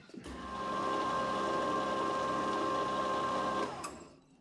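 A metal lathe cuts a 1.5 thread with its gearbox set, giving a steady close mechanical hum with a sustained tonal whine that starts, runs evenly for about three seconds, then winds down.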